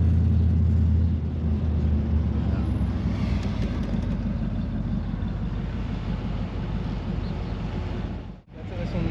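A Corvette convertible engine runs with a steady, low, close rumble through the whole stretch. It briefly drops away near the end, and a voice may be faintly present underneath.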